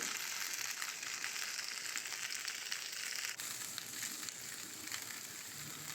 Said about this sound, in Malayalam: പിന്നെ ഒരു ഉള്ളി വലിയ കഷ്ണമാക്കി അരിഞ്ഞിട്ടിട്ട് അതും ഇട്ട് കൊടുക്കുന്നുണ്ട് രണ്ടും കൂടി ഒന്ന് ചെറുതായിട്ട് കരിഞ്ഞു പോകാതെ ഒന്ന് വഴറ്റിയെടുക്കുന്നുണ്ട്